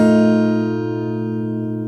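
The opening chord of a song on fingerstyle acoustic guitar: three strings plucked together, the high E open. It rings once, close and clear, and decays slowly over two seconds with no voice.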